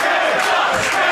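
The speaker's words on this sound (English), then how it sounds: "The crowd getting behind Kenta." A wrestling crowd in an arena cheers loudly, a dense roar of many voices swelling in waves across the moment.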